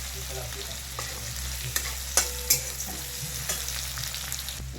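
Garlic roasts in a pan over a high gas flame, giving a steady close sizzle with a low burner hum beneath and a few sharp scrapes and taps of a spoon, no talking.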